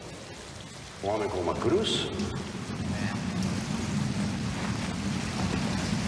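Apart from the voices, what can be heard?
rain falling in a film scene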